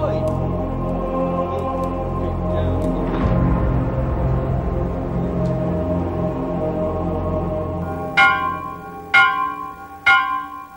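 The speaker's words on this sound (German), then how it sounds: "In der frühen Christenheit ist das Glockenläuten Signal zur Abwehr heidnischer Dämonen." Church bells tolling over a sustained droning ring, followed by three loud, evenly spaced bell strikes near the end, each with a resonant decay.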